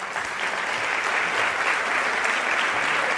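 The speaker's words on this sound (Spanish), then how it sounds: "Un aplauso," Audience applause at a talk on digital citizenship and literacy in Chile, steady dense clapping filling the room throughout, loud and close, with no voices over it.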